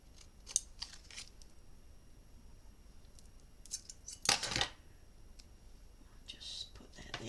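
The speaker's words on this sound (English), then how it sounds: "Scissors." Scissors snipping at a small paper craft folio, a few faint crisp cuts scattered over several seconds, one louder snip near the middle, with soft whispered talk around them.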